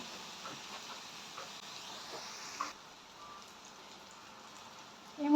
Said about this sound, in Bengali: পেঁয়াজ আর রসুনটা একটু ভাজা ভাজা হইবে লাগে, বাট সফট হইতো না